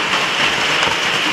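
Steady rain pours at Bagalangit Cemetery, a dense, even hiss that fills the whole moment without breaks, close and fairly loud, with no voices over it.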